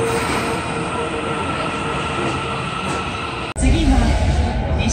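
A subway train in Osaka, Japan rumbles steadily along with a broad roar, then an abrupt shift to a louder, lower rumble as it pulls into the platform.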